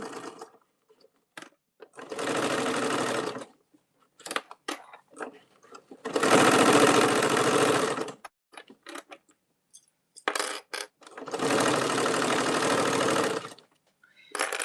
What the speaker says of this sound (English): put your presser foot back down and continue sewing